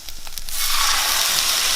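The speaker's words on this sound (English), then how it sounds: "You hear that sizzle?" A sharp, loud sizzle bursts up after a few brief splashes of water, then holds as a steady, close hiss of water hitting hot food in a container.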